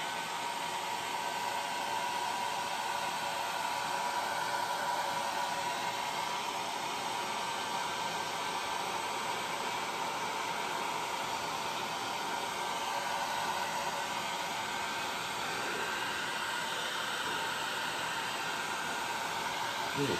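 A heat gun blows steadily on glitter resin in a coaster mold, a constant loud airy whoosh with no break.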